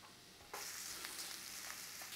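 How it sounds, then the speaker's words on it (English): Diced onion hits a pan over a low flame and starts sizzling, a sudden onset that becomes a steady bright hiss with light stirring scrapes, close and with no talk. "We're going in there with our diced onion. Just going to give that a little bit of a stir on there."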